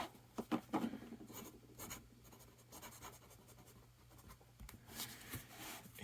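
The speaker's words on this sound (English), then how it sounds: "So here we go with our writing sample." A North Korean Kolma fountain pen with a 12K gold nib writes on paper, giving a soft, close, continuous scratchy whisper with little strokes and taps as letters form.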